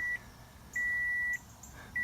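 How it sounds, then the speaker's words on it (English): Repeating high-pitched electronic beeps of a car's seatbelt and key-in-ignition warning chime with the door open, steady evenly spaced tones, close and clear with no talking. "the safety chimes that your car will produce when your seatbelts are not buckled, or perhaps the keys are in the ignition and the door is open"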